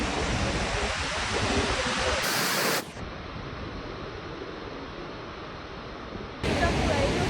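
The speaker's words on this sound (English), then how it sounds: "finally we are here in the waterfall." Victoria Falls (Mosi-oa-Tunya) roars as a dense, steady wash of falling water, loud and continuous, with abrupt shifts in level as the sound cuts between moments.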